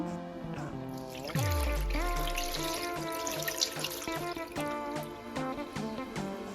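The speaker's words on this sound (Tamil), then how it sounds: "அதுக்கு முதல்ல நான் சர்க்கரையை போடுறேன் பிறகு பாலை விடுறேன்" Milk pours steadily into sugar in a pot while Sri Lankan thothal is being made, a continuous liquid stream with gurgling and splashing, heard close up over soft background music.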